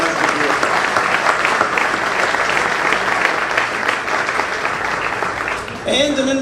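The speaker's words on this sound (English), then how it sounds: "How about an applause for our community advisory board?" A gala audience at Ohio University Eastern's 60th anniversary applauds its community advisory board: steady, dense clapping filling the room for several seconds, with crowd noise mixed in, then ending abruptly as a voice resumes.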